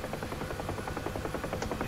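A helicopter in the DCS World flight simulator thrums with a steady, rapid rotor chop and a constant engine whine, close and unbroken throughout.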